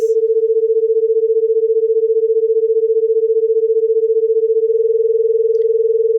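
A steady pure tone with a fast, regular throbbing pulse from two nearly matched pitches beating together, giving a rough, buzzing texture.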